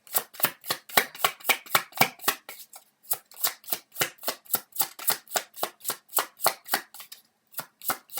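Tarot cards being shuffled in a steady run of crisp, rapid riffling snaps, close and clear, with a brief pause near the end before the shuffling resumes.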